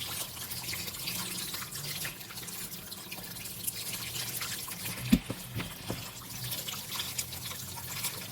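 Goat head meat is washed in water in a pot, with soft continuous splashing, trickling and dripping, punctuated by a few brief sharper splashes and knocks, close and fairly quiet.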